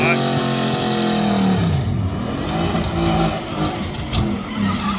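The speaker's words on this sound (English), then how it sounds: "This is a right-hand drive mail truck." A right-hand drive mail truck engine revs steadily with rising and falling pitch, loud and close, while people talk over it throughout.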